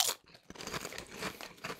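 Close, crisp crunching of a Koikeya ume-flavored potato chip being bitten and chewed, a burst of sharp crackles followed by steady, irregular chewing crunches with no talking.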